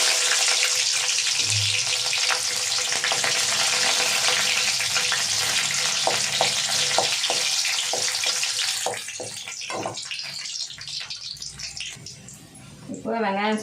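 Garlic and fenugreek seeds fry in hot oil in a pan, giving a steady broadband hiss that dies down near the end, with stirring clicks and a voice speaking over it.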